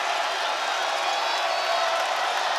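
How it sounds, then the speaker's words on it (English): Crowd at a Coleman Coliseum basketball game roaring with loud, sustained, dense cheering as a wash of noise, with no distinct voices standing out. "Crowd alive at Coleman Coliseum."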